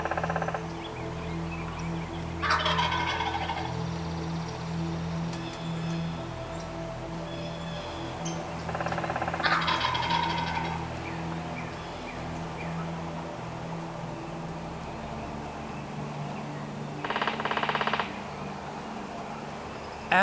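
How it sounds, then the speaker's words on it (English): A wild turkey gobbles in the open during a spring hunt, three short, rattling bursts spaced several seconds apart, fairly distant over a quiet outdoor background. "He strutted and gobbled, but wasn't making any progress toward our setup."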